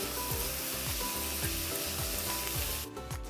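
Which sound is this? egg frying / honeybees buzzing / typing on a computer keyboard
egg frying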